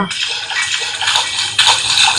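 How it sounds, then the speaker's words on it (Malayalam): Footsteps wading through water in the video game Granny Car Escape, a steady run of splashing and sloshing that fills the whole stretch, close and fairly loud. "വെള്ളത്തിലൂടെ നടക്കുന്ന ശബ്ദമാണ് കേക്കുന്നത്"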